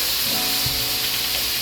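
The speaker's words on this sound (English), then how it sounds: "So we added some water to the pot." Water poured into a hot pot of curried goat sets off a loud, continuous hissing sizzle with steam, steady and close for the whole moment.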